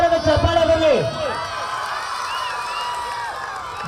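A crowd at a village goddess festival in Bidadi, Ward 8, cheers and whoops loudly after an announcer's voice at the start, with the crowd noise carrying on to the end.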